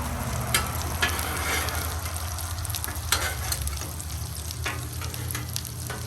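Salisbury steak burger patties sizzle steadily in a frying pan, a dense continuous crackle with occasional louder pops and spatter as they cook.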